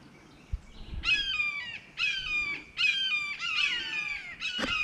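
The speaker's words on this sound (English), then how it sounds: "Crows are pissed." Several crows caw harshly in repeated bursts close by, agitated calls stacking over each other in four or five loud rounds, with no talking.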